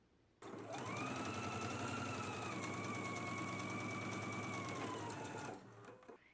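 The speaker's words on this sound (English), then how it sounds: "first let's go ahead and stitch the center back in a 5/8 of an inch seam allowance" A sewing machine runs one continuous, even stretch of stitching along a waistband's center back seam, close and loud, starting and stopping cleanly with no talk.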